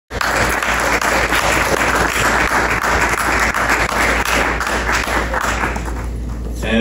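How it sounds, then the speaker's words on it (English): Sustained, dense applause from an audience closing a public debate in a café setting, loud and close, with many hands clapping steadily for several seconds before tapering slightly at the end. "I think they deserve a round of applause."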